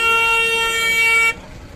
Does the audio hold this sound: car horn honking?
yes